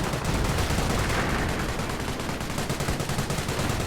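Dense, continuous machine-gun fire rattles in a World War II strategy game as bullets rake a Panther tank, a rapid stream of close shots that carries on without pause and with no talk.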